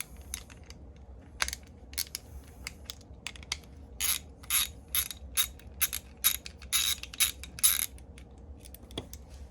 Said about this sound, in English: take off this bolt.